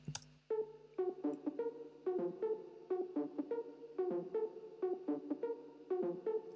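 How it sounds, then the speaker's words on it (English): A low synth lead pitched down one octave plays a repeating melodic pattern of short notes, each smeared into echoing delay repeats and a wide, washy Valhalla Room reverb tail. "It's pitched down 1 octave, and I've drowned it out with a lot of reverb and delay"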